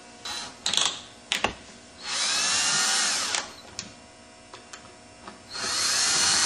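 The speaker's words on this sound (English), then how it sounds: "Set the electric screwdriver on the lowest torque setting, which is like 2 foot-pounds." An electric screwdriver on a low torque setting drives screws into a crankcase in short whirring bursts, interspersed with clicks and small clatter of parts.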